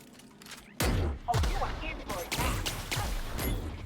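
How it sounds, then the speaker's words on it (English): A grenade goes off in The Outer Worlds video game, a sudden loud blast with a low rumble, followed by a rapid series of sharp, punchy bursts like combat gunfire continuing close by. "Kinda expected that grenade to do a bit more."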